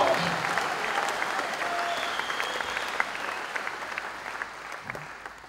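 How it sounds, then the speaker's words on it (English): Congregation at a church Bible study clapping hands in praise, a dense, steady wash of applause that slowly fades over several seconds with faint voices mixed in. "Give a hand clap to the Lord,"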